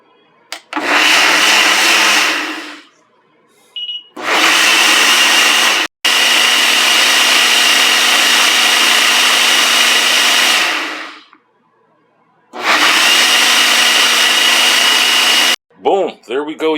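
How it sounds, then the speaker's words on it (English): A countertop blender purees cooked corn in three long, loud, close bursts of steady whirring motor noise, broken by short pauses, with a brief clatter at the end. "So we're going to go ahead and get this blended up."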